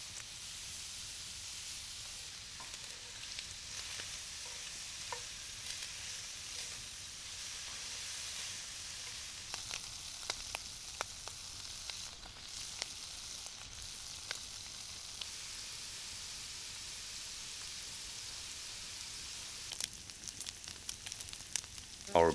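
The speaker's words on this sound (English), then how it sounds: "We sear it until it gets brown and crispy." Bacon sears in a pan for spaghetti carbonara, giving a quiet, steady hissing sizzle with scattered faint pops and a few brief clinks near the end. No voices are heard.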